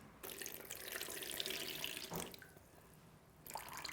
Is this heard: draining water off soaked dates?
yes